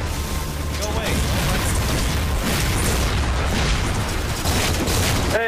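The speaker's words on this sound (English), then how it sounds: "grenade!" Grenade going off in Halo 4 Spartan Ops combat, a loud booming blast amid continuous gunfire and battle noise, with players talking over it.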